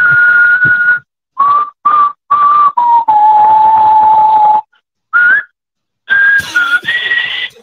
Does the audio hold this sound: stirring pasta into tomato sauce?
no